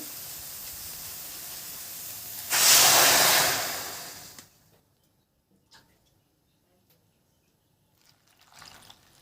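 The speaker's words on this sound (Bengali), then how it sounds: "কচুতে জল দিয়ে দিয়েছি" Water pours into a pot of taro leaves during village-style Bengali cooking, a loud splashing rush lasting about two seconds. It then fades into near silence, with a few faint clinks and rustles after.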